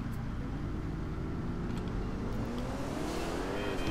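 A Ferrari driving in GTA 4 gives a steady, loud engine drone with rising revs, layered over low rumbling traffic noise and the hiss of a moving car, with no talking.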